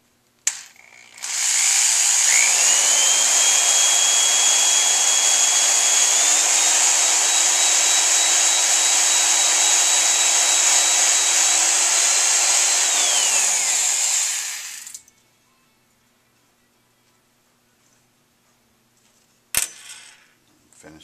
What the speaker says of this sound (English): Put a little bit of mother's on the head and polish it up on the foam rubber.